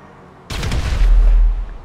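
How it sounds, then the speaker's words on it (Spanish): A sudden heavy explosion in Grand Theft Auto V, one loud booming blast that hits abruptly and rumbles with deep low thunder for about a second before fading. "Estoy volando con explosiones."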